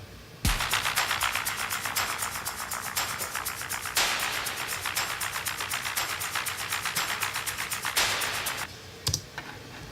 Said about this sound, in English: So this is things like shakers,